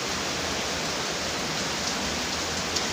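Steady, dense rain pours down outdoors in Oxford, Michigan during a storm, a continuous close hiss of drops striking surfaces with no let-up and no voices.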